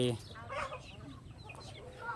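Chickens cluck in a rural Thai yard, several short clucks close by with a voice talking over them.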